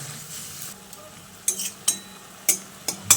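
Radish greens with salt and turmeric are stirred in a pan: a faint sizzle underneath, then a series of crisp, close scrapes and clinks of the utensil against the pan.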